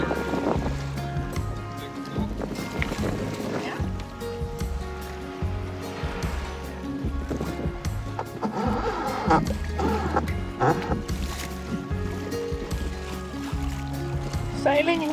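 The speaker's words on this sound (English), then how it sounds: "Sailing like this is just wonderful" Sailboat under full main and full genoa heeling through water off Mallorca in about 8.5 knots of wind, steady rush of water and wind noise along the hull, with music and voices over it.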